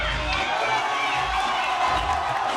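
A crowd at a breakdance battle event cheers and roars in a continuous, dense wash of voices and clapping, steady and fairly distant throughout.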